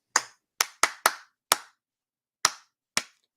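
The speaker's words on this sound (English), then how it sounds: "You get to clap?" A single pair of hands claps seven sharp, close times in an uneven rhythm, with short quiet gaps between the bursts and no other sound around them.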